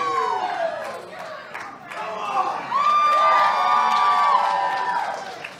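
A wrestling crowd at an unsanctioned match cheers and chants for Kevin Ryan, high excited voices and shouts swelling into a sustained roar, with a commentator talking over it.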